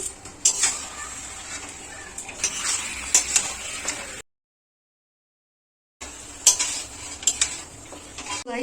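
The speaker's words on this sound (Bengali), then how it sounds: "মশলা কষে নিয়েছি আর এতেও ম্যারিনেট করা ছিল তো এবারে মাংসটা কষে নিচ্ছি" Marinated mutton stirred and sautéed in a pot, with a spoon scraping and clinking against the metal under a soft sizzle; the scraping comes in close, uneven strokes, broken by a short silent gap.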